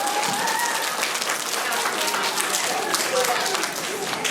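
Applause at an elementary school assembly as students return to their seats, a full room of children and adults clapping steadily and loudly throughout.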